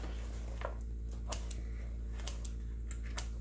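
Small scissors clip the binding stitches of a handmade junk journal with a handful of faint, crisp snips spaced irregularly over a steady low hum.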